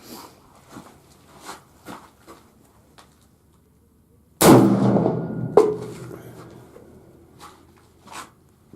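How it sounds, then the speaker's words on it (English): One sharp, loud unsuppressed gunshot from a rifle firing supersonic .223 ammunition, a sudden blast with a ringing decay over about a second, set among faint clicks and handling noises before and after. "the first shot here, unsuppressed with supersonic 223"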